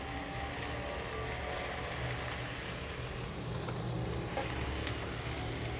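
Sausages and onions stir-fry in a pan with tomato sauce, a loud, continuous sizzle with faint scraping of stirring, no voices.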